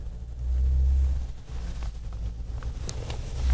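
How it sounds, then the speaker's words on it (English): A 2012 Toyota Tundra pickup's V8 engine rumbles low and steady, swelling briefly in a rev before settling back to a smooth idle-like drone. "let you listen to the engine on this V8"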